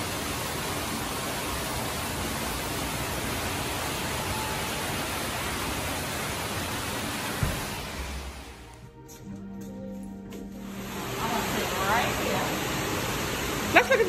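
A waterfall beside the spa pool and hot tubs pours with a steady, loud broadband rush that fills the clip, dips briefly partway through, then resumes.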